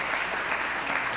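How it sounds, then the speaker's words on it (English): Brief, faint applause from an audience at a judicial investiture ceremony, an even wash of clapping with no voices over it. "let's give him a round of applause"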